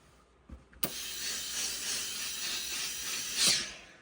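Steam hisses from an iron during sewing work on a shirt, a broad continuous hiss that follows a sharp click and swells louder near the end, close and alone without talk.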